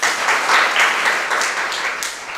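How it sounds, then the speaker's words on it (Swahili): A classroom full of pupils claps for a classmate, a dense, steady wash of many hands applauding close by, lasting throughout with slight swells and no talk over it. "Pigeni makofi kwa niaba yake."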